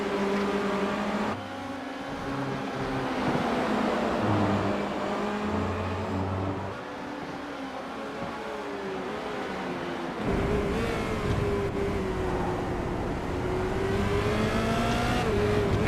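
Formula Renault race cars in an online sim race at Okayama rev hard and loud through slow second-gear corners, with engine pitch rising and falling through gear changes as several cars run close together.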